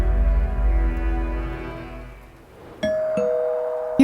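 A two-tone doorbell chime rings out clearly, a ding followed by a lower dong, after a fading low rumble.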